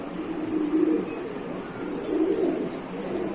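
Satin pigeons cooing nearby, soft repeated throaty coos in two swelling bursts over low background noise, with no talk heard.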